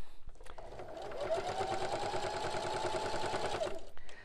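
A sewing machine runs steadily for about three seconds, stitching along the edge of a fabric soup bowl cozy, a close, even mechanical whir with rapid needle clatter and no talking.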